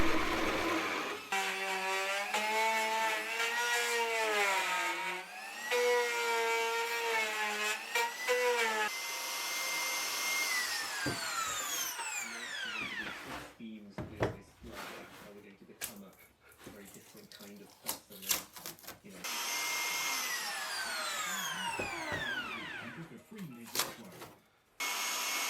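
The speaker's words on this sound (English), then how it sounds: "Now we're using the router just to cut the recess in the panel to fit the shelf in." A loud, high-pitched router whines and screams as it cuts a recess into a wood panel. The tone rises and falls with each pass, and there are bursts of rough cutting noise.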